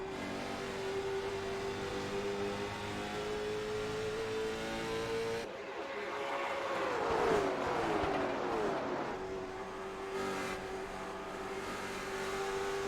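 A race car at Nashville Fairgrounds holds a steady high engine drone, then sweeps through a loud revving rise and fall as cars close in and pass, before settling back to a constant near engine tone.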